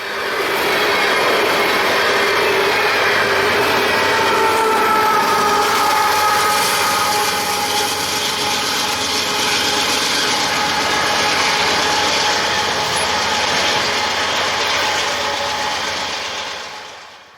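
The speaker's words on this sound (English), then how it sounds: "I-3721 can be seen coasting downhill and into Folkston with intermodal for Jack's Ramp." CSX intermodal freight train coasting downhill into Folkston, a long steady roar of wagons and wheels rolling past at close range with faint squeal and clatter, continuous for the whole stretch before tapering off at the end.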